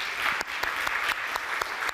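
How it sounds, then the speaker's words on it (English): A conference audience claps steadily, a dense wash of many hands applauding without pause, with a few sharper claps standing out. "And a round of applause for you."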